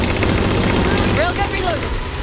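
A railgun fires in the video game Halo 4: a loud, dense burst with a sweeping electronic whine over heavy rumbling battle noise.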